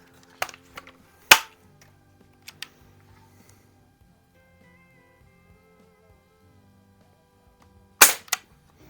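A Barra 1866 Jr. single-stroke youth pellet/BB rifle fires a few sharp, snappy shots while plinking outdoors, with two cracks close together near the start and another crack after a long quiet gap.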